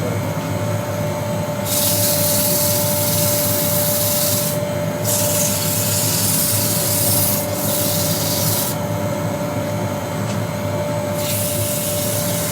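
Sandpaper of 150 grit rubbing against wood spinning on a lathe while a pestle and mortar is turned, a steady loud hiss with repeated passes each lasting a few seconds, alone with no talk.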